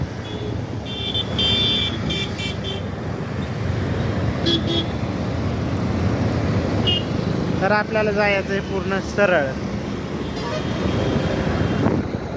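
Busy, congested highway traffic during a wedding crowd: several short car horn toots and honks sound over a steady road rumble, with someone talking throughout.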